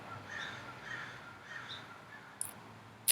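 Crows cawing outside, three hoarse calls at an unhurried pace, faint and distant under a soft background hiss.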